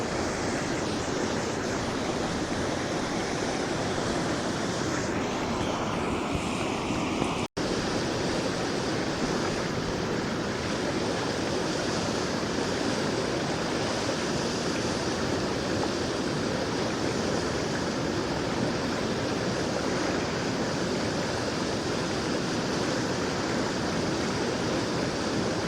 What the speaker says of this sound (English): Just listening to that water. Watching the water go down through.